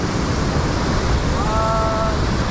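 Sea waves wash steadily at a rocky fishing spot, a continuous broadband surf rush filling the scene, with a faint tonal whistle rising briefly near the end.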